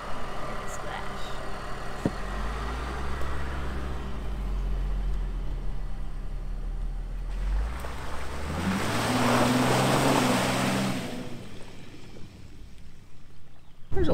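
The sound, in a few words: car splashing through water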